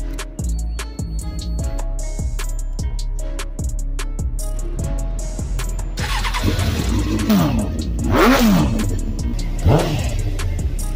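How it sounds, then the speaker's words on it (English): A Suzuki GSX-R600 sport motorcycle fires up after a steady rhythmic beat, then its engine runs close and loud with several sharp revs. "Walk away with your bike running"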